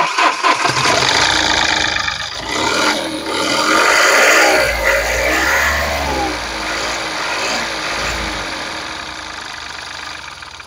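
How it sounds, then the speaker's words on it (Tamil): A Mahindra TUV 300 T10 diesel engine runs steadily at idle with a loud, continuous rumble and some knocking clatter, fairly close and without speech throughout. "இது வந்து டீசல் என்ஜின். ஸோ அதனால உங்களுக்கு வந்து நாய்ஸ் வந்து கொஞ்சம் லவுடராக இருக்கும்."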